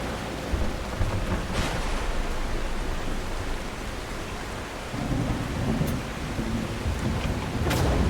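Steady rain hiss and rolling thunder from a storm in the video game The Last Caretaker, continuous throughout with heavier low rumbles swelling partway through and brief crackling peaks.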